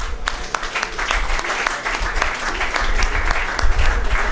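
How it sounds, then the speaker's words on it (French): Student audience at an IFASIC conference debate applauds, with many hands clapping in a dense, sustained round that swells slightly toward the end, sharp individual claps standing out. "On peut applaudir ça, s'il vous plaît."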